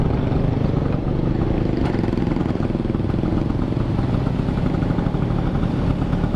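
A Vespa Excel scooter rides at night through drizzle, its engine a steady close hum mixed with continuous road and wind noise throughout, with no voices.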